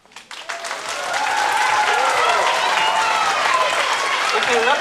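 Children applauding at an end-of-year ceremony for a Vietnamese language school, a swelling burst of clapping that builds within a second into sustained loud applause, with voices mixed in.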